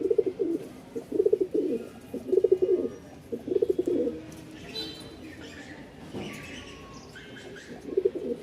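Pigeons at a seller's stall in Mirpur-1, Dhaka, give repeated low throaty coos in steady bursts nearby, with faint chirps and background murmur behind them.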